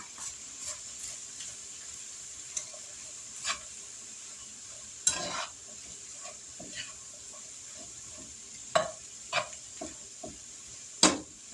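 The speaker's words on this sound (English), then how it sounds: "we're going to go ahead and dump the bacon back in it" Bacon sizzles in a pan with cabbage and potatoes, a steady soft crackle broken by occasional louder stirring scrapes and clatters, with no talking.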